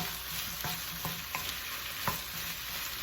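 Carrot stir-frying in a pan for stir-fried glass noodles, with a steady low sizzle and a few sharp scrapes and clinks of a utensil spaced through it, close and fairly quiet, with no voices.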